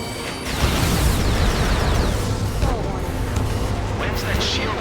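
A laser cannon blows up in the Ace Combat 7 video game as a loud, sustained rumbling explosion with crackling bursts, filling the whole stretch.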